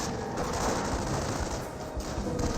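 Sniper and small-arms gunfire in Company of Heroes, a World War II strategy battle, rattling continuously at steady loudness with overlapping shots and no speech.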